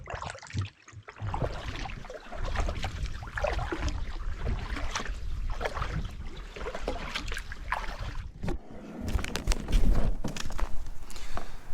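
A canoe paddles through a swamp in Killarney, with steady close splashing and dipping strokes against the water and brief knocks on the hull, continuous and fairly loud throughout.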